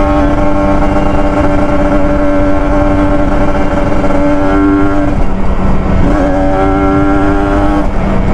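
Kawasaki Ninja RR, an older two-stroke sport motorcycle, held at a steady loud idle-rev with a harmonic engine whine throughout, dipping briefly around the fifth second before rising again.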